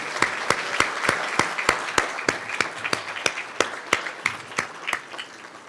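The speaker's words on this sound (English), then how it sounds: "Let's have one more round of applause for all of our Alumni Award winners." Applause at a university awards banquet for alumni award winners, a sharp, rhythmic round of clapping close by that fades slightly toward the end.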